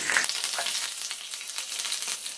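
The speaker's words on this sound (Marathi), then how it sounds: "पॅन मध्ये तेल आता तापलेलं आहे, त्यात मोहरी घालते, त्यातच 3-4 कढीपत्त्याचे पानं घालते आहे" Mustard seeds and a few curry leaves dropped into hot oil in a pan, a close, steady crackling sizzle that runs throughout without voices.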